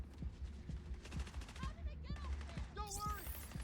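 Rapid gunfire from a Rainbow Six Siege match, a string of sharp shots spread through the stretch with a player's voice talking and exclaiming over it.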